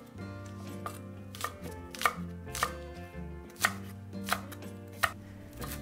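A knife chops two spring onions on a cutting board for a Lao beef salad, about eight crisp, sharp cuts at an uneven pace, close and distinct over a quiet low background, with no voices.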